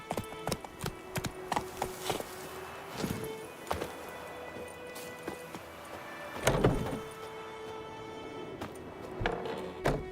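Roach the horse galloping in The Witcher 3: irregular clip-clop hoofbeats on hard ground, fairly close and moderately loud, with game ambience behind.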